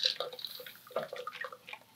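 Water trickles and drips into emptied food cans in a home kitchen, short splashy bursts with no talking.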